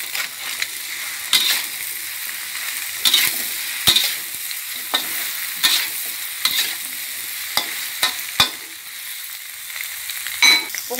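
Luffa, about half a kilo, stir-fried in a pan for a luffa-and-egg dish, giving a steady sizzle broken by repeated scraping and clanking stirs, close and fairly loud with no talking.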